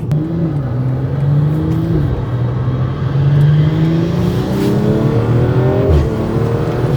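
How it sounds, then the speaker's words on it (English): An 800hp BMW M340i launching hard, its engine roaring and climbing in pitch through rising revs, loud and close, with a brief dip around a gear change and no voices over it. "That's the first time this car actually hooked and ripped."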